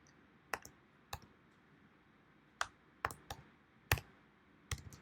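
A computer mouse clicks sharply and crisply about eight times at uneven intervals, close and distinct over a faint background hiss.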